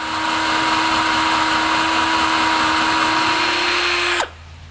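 A power drill whines steadily at high pitch, grinding through metal with cutting oil while drilling drain holes in a car differential, for about four seconds before stopping abruptly.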